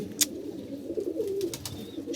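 Pigeons coo softly in a loft, a few low murmuring calls close by over quiet rustling and brief scratchy noises, with no talk.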